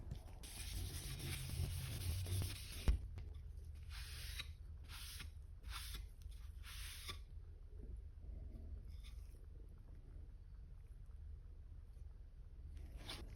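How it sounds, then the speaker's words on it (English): A cloth rag wiping Tru-Oil finish onto pine wood makes soft, steady rubbing strokes close to the microphone, with rhythmic swishes in the first seconds that then fade into a faint background hiss. "continuing with the first coat of Tru-oil on the pine."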